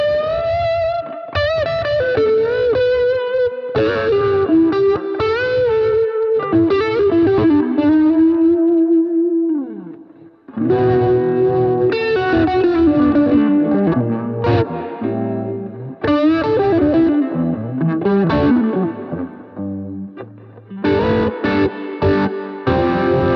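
Electric guitar runs through a Max Pedals Phaser Beam phaser with the dry signal killed, swirling sustained notes and chords sweeping continuously, with a brief drop in level midway, loud and alone without talk.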